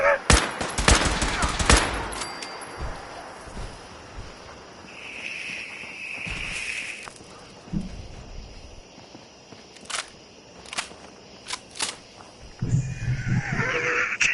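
Gunfire from an artillery strike in a PS4 video game: a dense burst of rapid shots at the start, then scattered single cracks and a longer rumble, with quieter stretches in between.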